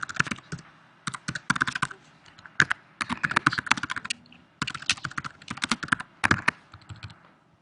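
Rapid clicking of typing on a computer keyboard while writing software documentation, close and fairly loud, in bursts of keystrokes separated by short pauses, with no speech.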